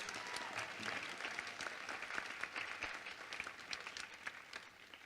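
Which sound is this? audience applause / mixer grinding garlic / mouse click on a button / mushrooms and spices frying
audience applause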